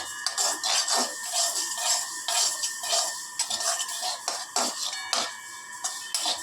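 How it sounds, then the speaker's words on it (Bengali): Sesame seeds roasting in a pan are stirred steadily, giving rhythmic scraping and light rattling strokes that repeat every second or so, close and fairly clear with no talk. "যতক্ষণ না ভালো করে ভাজা হচ্ছে ততক্ষণ কিন্তু তোমার তিলটাকে ভালো করে নেড়ে নিতে হবে।"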